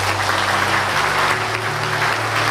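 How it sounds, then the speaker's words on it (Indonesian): Audience applause at a formal ceremony, a continuous wash of clapping from a crowd with a low steady hum underneath, no talk over it. "Sekali lagi beri tepuk tangan."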